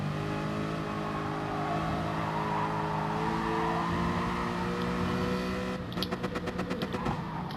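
A race car engine in GT Sport drones at high revs, then drops through gears with a series of rapid, stuttering downshift blips near the end, loud and close with no talk.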